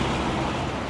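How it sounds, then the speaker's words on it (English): Steady roadway traffic noise rumbles continuously outdoors beside a parked 2006 Toyota Highlander Hybrid, a broadband wash with no talk over it. "Sorry about the traffic noise there."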